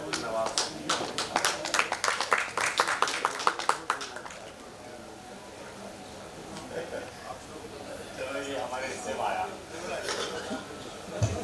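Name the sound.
audience applause welcoming a guest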